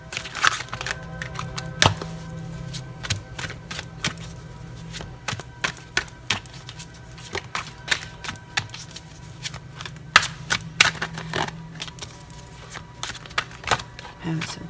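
Tarot cards being riffled and shuffled repeatedly, with crisp flicking bursts and taps recurring throughout, fairly close and steady over a low background hum.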